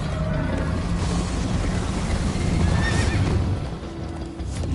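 A horse in the Minecraft: Story Mode video game whinnies loudly while steady clip-clopping hoofbeats gallop along beneath, sustained and close throughout.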